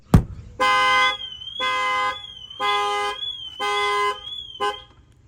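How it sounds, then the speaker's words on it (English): A sharp knock on the window of a GMC Yukon, then its car alarm, set off by an add-on shock sensor, blares in repeated long electronic bursts with short gaps between them, loud and close. "you're going to see that the alarm is going to go off"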